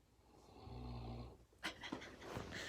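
A dog snores softly with a low rumbling inhale, followed by a few quiet snorts and breaths, faint and close.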